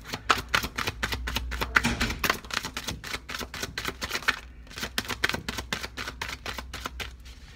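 Oracle cards being shuffled and pulled, giving a rapid run of crisp riffling and slapping card flutters that pause briefly midway and then start again, close to the mic with no talking.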